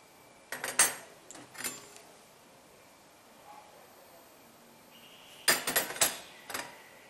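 Metal cutlery clatters and clinks in a dishwasher basket in two brief bursts separated by a quiet stretch, close and sharp.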